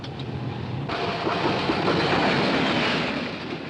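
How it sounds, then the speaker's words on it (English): A new diesel-electric locomotive on factory test runs with a steady, loud rumble and rail clatter, the level jumping up sharply about a second in and holding as a continuous roar with no talk. "the heart of railroading lies in the mighty diesel-electric locomotives that make the railroads go"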